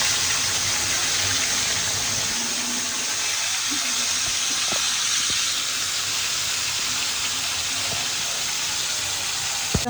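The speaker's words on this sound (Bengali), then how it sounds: "আমি এখানে সেরির জন্য কই মাছ বোনা করবো" Koi fish fry in a pan with a steady, close sizzling hiss and a couple of brief utensil clicks.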